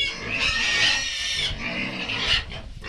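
Pigs in a pigsty squeal and grunt loudly while being fed pumpkin, with repeated high-pitched squeals running almost continuously across the moment and rising in bursts.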